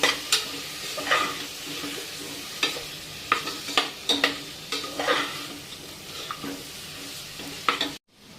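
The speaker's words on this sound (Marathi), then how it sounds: "आता छान आपण मसाले बटाटा आणि कोथिंबीर पुन्हा परतून घ्यायचे" Potatoes with spices and chopped coriander being stir-fried in a pan, with repeated scraping strokes of a spoon over a steady sizzle, close and clear, no talk, ending abruptly.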